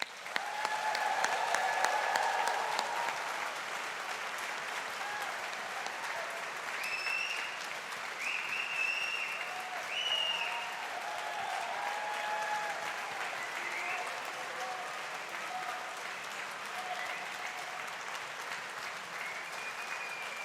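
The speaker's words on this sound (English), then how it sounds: "let's give this class of 2022 a big round of applause" Sustained round of audience applause for a graduating engineering class at a university ceremony, dense steady clapping from a large crowd that stays even for twenty seconds, with faint tones above it.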